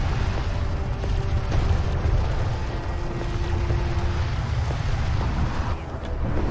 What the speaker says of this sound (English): There's the cruise missile, and that ought to be all she wrote for Maze.